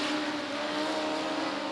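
A pack of 3/4 modified race cars on the Volusia dirt oval crossing the line, their engines a dense, sustained roar blending into one loud drone at middle distance.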